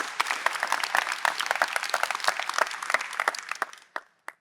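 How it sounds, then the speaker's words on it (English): Audience applause for a presenter at an Agentforce digital labor training session, dense clapping that thins out near the end with a few last isolated claps. "Massive round of applause for Katarina,"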